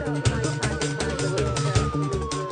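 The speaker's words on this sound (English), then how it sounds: "As they hear the sirens, they scatter." A police siren wails steadily in a slowly falling tone over a loud, rhythmic music-like pulse, continuous throughout, as police arrive at a street fight.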